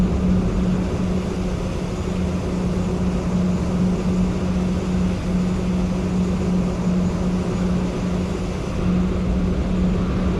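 Steady, loud roar of Boeing 737-800 jet engines spooling for takeoff in a Roblox Flightline game, a continuous drone with a low hum holding throughout and no talk.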